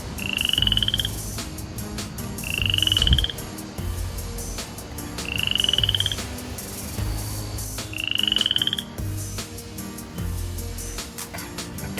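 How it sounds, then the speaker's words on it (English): Frog croaking in four short, regular calls spaced a couple of seconds apart, clear and fairly close over a low background rumble, with no talking. "Oh, it's a frog."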